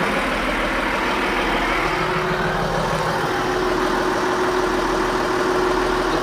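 An excavator's diesel engine idles at a steady, loud, close drone with a constant low hum, running evenly throughout with no speech.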